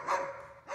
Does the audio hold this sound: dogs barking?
yes